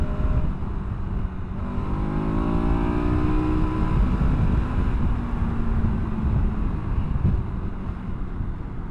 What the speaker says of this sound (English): this 1290 motor is one of the best street bike engines in existence today